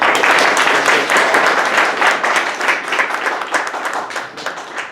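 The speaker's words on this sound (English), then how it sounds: "Could you give him a round of applause?" An audience at a speech contest applauds a judge, giving dense, loud, sustained clapping that thins out slightly toward the end.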